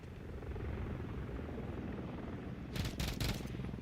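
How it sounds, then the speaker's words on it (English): A friendly overwatch helicopter arrives in Call of Duty Modern Warfare, its rotor a steady low rumble throughout, joined near the end by a few sharp bursts of gunfire. "Friendly Overwatch Helo inbound."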